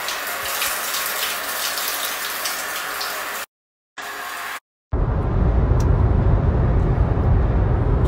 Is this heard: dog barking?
no